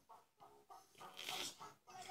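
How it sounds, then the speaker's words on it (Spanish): Chickens cluck in a quick series of short rhythmic bursts, faint and close together, swelling briefly into a busier cackle midway before the clucks resume. "Esas gallinas están locas,"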